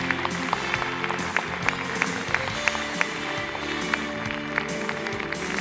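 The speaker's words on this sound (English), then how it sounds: "Our applause, ladies and gentlemen." Applause from a conference plenary audience after a presentation, with scattered sharper claps over a steady patter of hands, moderately loud throughout with some crowd murmur.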